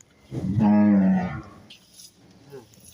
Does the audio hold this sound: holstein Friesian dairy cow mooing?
yes